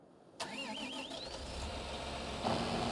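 A leased tractor in a farming video game starts its engine with a sudden catch and settles into a steady mid-pitched hum and whine. The sound is fairly faint and continuous, with no talking.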